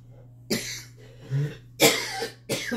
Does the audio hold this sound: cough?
yes